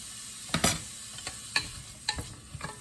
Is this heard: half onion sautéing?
yes